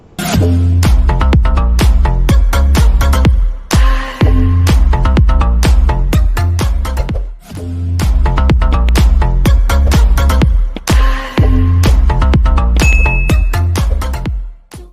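A short musical channel intro jingle plays loudly, with bright ding-like chimes and punchy rhythmic beats repeating in phrases, and no speech over it.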